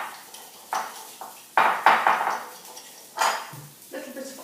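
Spoon clinking against a bowl while Dijon mustard and red wine vinegar are mixed together, several close, sharp taps and scrapes in short bursts.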